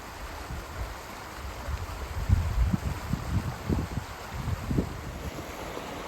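A river stream flows along a rugged hiking trail on the west coast of Scotland, a steady rushing wash with low gusty wind buffeting the microphone, and no voices.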